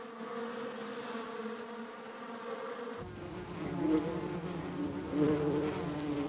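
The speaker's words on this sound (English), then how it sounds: "They persuaded bees to fly down a long tunnel, lined with black stripes," Bees flying down a long tunnel lined with black stripes toward a dish of sugar water, a steady droning buzz of many insects close by, growing fuller and louder partway through, with no voices.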